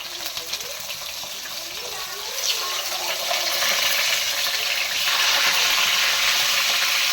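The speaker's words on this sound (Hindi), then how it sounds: "चिकन को हम करते हैं फ्राई।" Marinated chicken sizzles in a frying pan as a soft, close crackle that swells louder in steps. Faint voice-like sounds come at the start.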